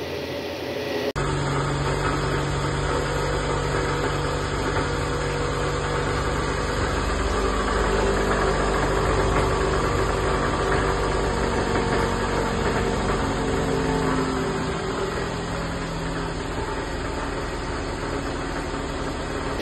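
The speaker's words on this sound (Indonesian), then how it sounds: "Gejala keluhan ada suara kasar di mesin. Suara kasarnya seperti ini yang di video kita lampirkan." A Toyota Vellfire with a 2.4-litre 2AZ-FE engine and a broken balancer runs with a rough, continuous idle drone and underlying knocking vibration, steady and close for the whole stretch with no talk.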